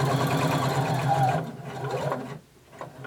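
A sewing machine runs a very short stitch through facing fabric laid over a garment for a bound buttonhole, whirring close and steady before slowing, pausing briefly near the end and restarting.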